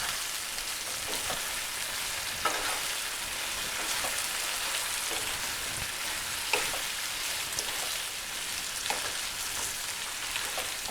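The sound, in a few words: potatoes frying and being stirred in a pan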